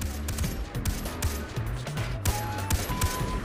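Rapid gunfire in the video game Far Cry 3, with several sharp shots in quick bursts over a low rumbling background tone that shifts in pitch, moderately loud and close.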